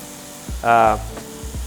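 A short burst of sizzling from a garlic-studded beef roast searing in hot olive oil, with a couple of soft scraping knocks around it.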